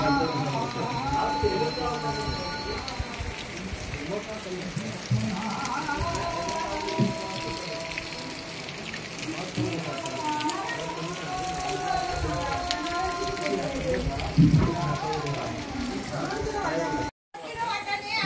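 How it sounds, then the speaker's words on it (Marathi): Heavy rain pours steadily throughout, a dense continuous hiss of falling water during a Ganesh Chaturthi celebration at a home, with voices and household sounds mixed in and a brief dropout near the end. "पावसानं पण जोर धरले ना तसं."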